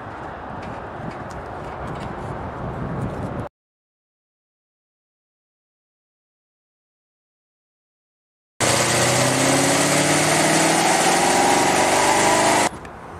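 A Rover SD1 with a 4.3-litre engine and TVR parts runs on a rolling road at idle with the ignition set to 15 degrees static advance, giving a steady engine drone with a long silent gap before it returns louder.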